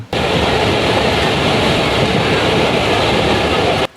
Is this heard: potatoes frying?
no